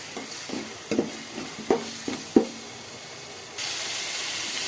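A pan of onions with homemade ginger garlic paste is stirred, with several sharp clanks of a spoon against metal, followed by a loud, steady sizzle as the frying intensifies.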